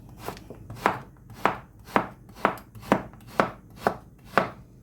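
A knife chops frozen leeks into chunks on a board: eight or nine firm, evenly spaced thuds, close and clear, with no voices.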